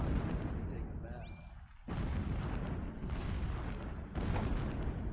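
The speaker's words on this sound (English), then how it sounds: "What the heck is with the explosions?" Explosions in the video game Horizon Zero Dawn: a dense, sustained roar of blasts and rumbling booms, with sharp onsets near two and four seconds, loud and continuous, while a voice speaks briefly early on.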